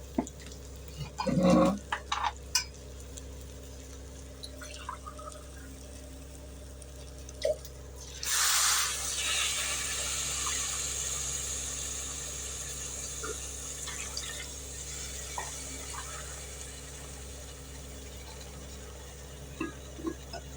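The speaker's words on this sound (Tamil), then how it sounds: "ஆறு டம்ளர் தண்ணி ஊற்றியாச்சு" Water is poured into a cooking pot while making traditional kathirikai seeraga samba rice, with a brief splash early on and a longer, steady pouring rush starting midway that fades gradually, no talking.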